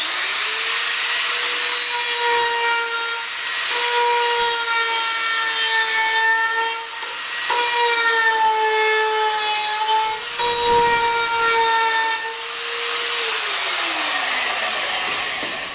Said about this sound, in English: going to have to get the die grinder out and start going to town on that thing